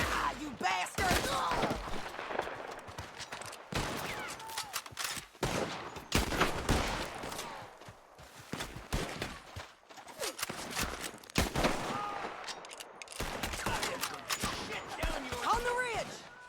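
Gunfire in the Red Dead Redemption 2 video game, repeated sharp rifle and pistol shots in irregular bursts throughout a busy firefight, some near and loud, with shouting voices and hooves mixed in.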